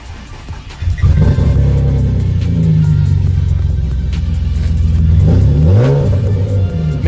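A BMW E36 engine cranks and catches about a second in, then settles into a steady, loud close idle with a brief rev near the end.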